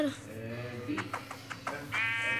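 Goat bleating in the video game Minecraft: a few wavering, nasal bleats with clicky game sounds between, over steady background noise and a voice talking.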